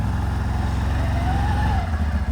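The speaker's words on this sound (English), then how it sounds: "So we're in reverse. We're gonna back up out of the situation we're in." A 2024 CFMoto CForce 1000 Touring ATV backs up in reverse, its engine producing a loud, steady, close-up low drone with a slight throttle swell near the end.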